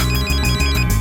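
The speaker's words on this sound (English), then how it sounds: "phone rings" A mobile phone ringtone plays loudly and close, a brief melodic electronic ring repeating in quick pulses with no talking over it.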